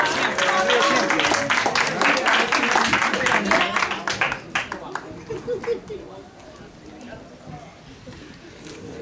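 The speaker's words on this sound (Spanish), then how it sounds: "No paren esos aplausos." An audience at a quinceañera party bursts into dense, sustained applause that thins out and fades partway through, leaving scattered claps and crowd chatter.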